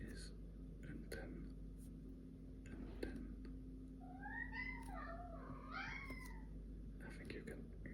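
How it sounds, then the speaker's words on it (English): A talkative pet cat meows several times, rising and falling chirpy calls clustered mid-clip, soft and close against a quiet room where someone works on a Japanese lesson with faint paper and pen sounds. "I think you can hear my cat is quite talkative."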